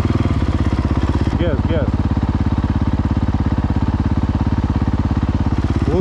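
Small motorcycles ridden by kids on a sandy road, a steady close engine drone running throughout with brief whining revs, while a person speaks over it.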